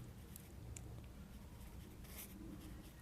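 Chalk or marker scratches faintly across a classroom board while a class 12 maths problem on matrices is worked out, soft brief strokes and taps over quiet room hiss.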